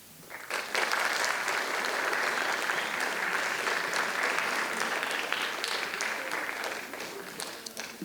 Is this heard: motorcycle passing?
no